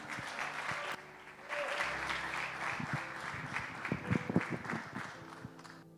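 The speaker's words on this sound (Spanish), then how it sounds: "¿Cuántos le dan un aplauso al Señor?" A church congregation applauds at a Saturday general meeting: steady, moderately loud clapping from a group, joined by a few low thumps and scattered voices.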